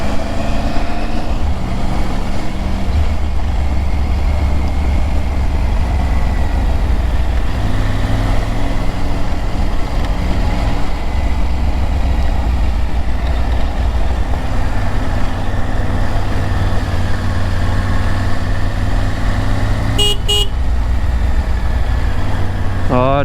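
A Triumph Tiger motorcycle engine pulls steadily in third gear on a mountain ride, a loud continuous drone with wind noise. A brief beeping comes near the end.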